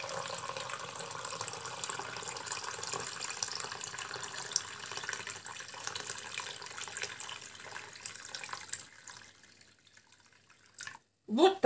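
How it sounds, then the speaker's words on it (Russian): Warm water pours from a water heater into glass jars of strawberries, a steady trickling splash that fades toward the end, followed by a brief louder clink. "Наливаю воды через водогреечку, тепленькой водички"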